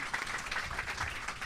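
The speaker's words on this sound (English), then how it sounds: "Round of applause." Audience at a Dragon*Con convention event applauds in a brief, steady patter of clapping at moderate distance.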